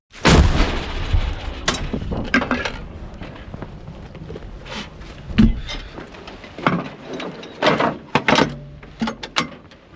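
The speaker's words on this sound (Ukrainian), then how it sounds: "Гармата вже достатньо вкопалася, вже стабільна і б'є точно в ціль." A heavy 105 mm howitzer, dug in, fires with a loud, sharp boom, followed by several quieter thuds and knocks scattered over the following seconds.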